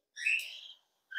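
Pet birds chirp in two quick bursts, a bright trilling call followed by a short pause and another sharp chirp, clear and fairly close in a quiet room.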